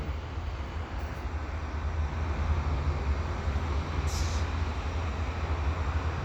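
A CN eastbound general manifest freight train passes at the Dorval ramps in Montreal, a steady low rumble and rolling wheel noise that swells slightly midway and holds constant, with no talk.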